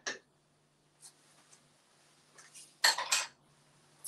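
A sourdough starter mixture is stirred in a container, a few light clinks and scrapes of a utensil, quiet and close, with a louder double clatter near the end.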